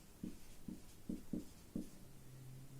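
Chalk tapping and scratching on a board during a physics lesson, five short soft strokes in quick succession in a quiet room, ending with a faint steady hum.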